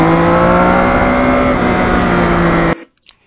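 A 2020 Yamaha MT-09 motorcycle on the move on a very hot day, its engine holding a steady, loud droning hum with a slight pitch sag before cutting off abruptly.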